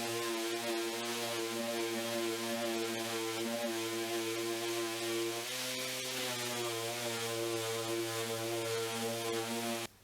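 Floor sander running over a repaired wooden floor, a steady loud droning hum with strong tonal harmonics that shifts pitch slightly midway, continuous and close until it cuts off at the end, with no voices.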